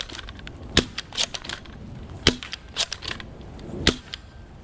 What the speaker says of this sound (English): Let's fire a couple down range.